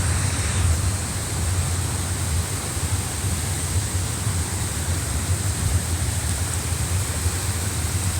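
A waterfall at Bambarun Gahana Ella pours down in a steady, dense roar. The hiss is broad and unbroken, stays loud and near throughout, and no voices are heard.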